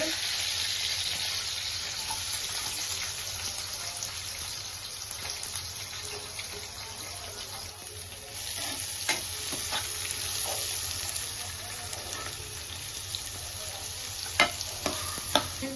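Green chillies and onions fry in a pan with curry leaves, a steady close sizzle with occasional stirring scrapes and small clinks, moderately quiet throughout.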